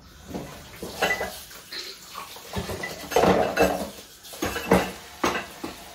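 Dishes being washed in a home kitchen, with irregular clinks and clatters of plates, pots and cutlery, some splashing of water, close and moderately loud.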